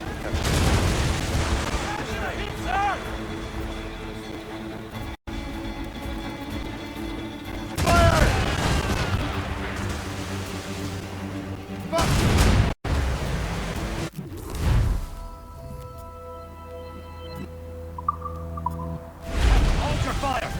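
Ship cannon fire in Assassin's Creed Rogue, loud booming volleys that recur through the clip under a dense game mix of music and effects, with sharp hits near the start, middle and end.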